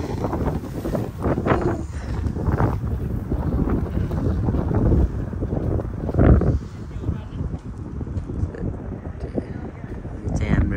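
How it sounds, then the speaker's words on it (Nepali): Strong wind buffets the microphone in rough, uneven gusts, with voices speaking through the constant low roar. "हावा चलेको चले"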